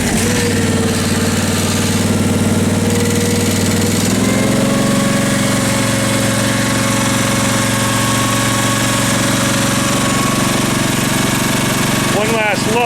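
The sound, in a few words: Case 446 tractor engine idling at low throttle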